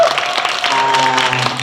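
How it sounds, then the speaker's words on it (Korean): Students and staff at a school project presentation event give a short burst of loud applause, with a sustained tone and a voice running beneath it. "예, 한 번 더 박수 쳐볼까요?"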